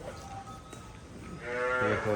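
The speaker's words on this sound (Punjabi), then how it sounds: "ਮੱਝ ਦੇ ਦਰਸ਼ਨ ਕਰਾ ਦੇ" A water buffalo of the Nili-Ravi breed moos on a farm, a long low harmonic call rising in the second half, close and fairly loud over faint background murmur.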